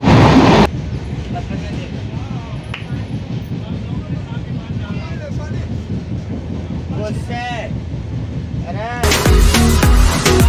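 Interior of the Godan Express passenger train running, with a steady rumbling roar and rhythmic rattle, a person talking throughout and a louder gust of noise near the end.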